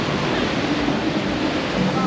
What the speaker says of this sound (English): With the water splashing.